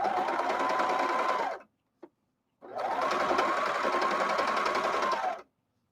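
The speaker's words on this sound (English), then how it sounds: "It's not super fun when it's under a serger." Serger sewing machine stitching a graphic tee, running in two steady, loud whirring bursts of a couple of seconds each, separated by a short pause and a brief tap, close up with no speech.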